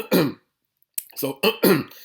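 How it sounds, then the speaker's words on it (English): A person clears their throat several times in short, rough bursts, close by, separated by a brief pause. "So in fact, I'll go clear my throat."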